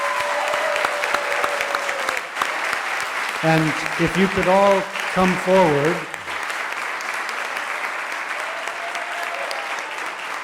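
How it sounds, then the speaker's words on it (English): Continuous applause from the audience at a city council meeting. It runs under a voice speaking into an amplified microphone midway through, and the steady clapping carries on after he stops. "Let's give them all a big round of applause."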